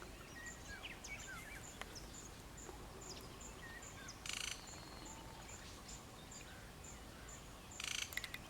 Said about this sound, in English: Black-headed oriole calling.